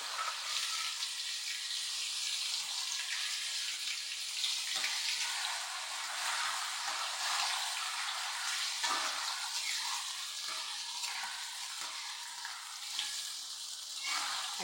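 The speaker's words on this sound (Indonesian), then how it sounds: "Yuk kita goreng jengkol." Sliced jengkol frying in a pan in a home kitchen, giving a steady, fairly faint hiss and crackle of hot oil that runs unbroken throughout.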